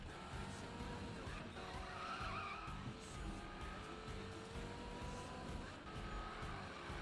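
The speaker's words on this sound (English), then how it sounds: "I'm struggling to hold this drift at the moment" Car drifting in Need for Speed 2015, tires squealing and skidding continuously over a revving engine, faint and steady throughout.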